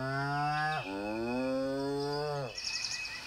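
Video game cows in Deeeer Simulator: a long, low moo with rich harmonics, broken briefly partway, then a second sustained moo, ending in a soft electronic chime.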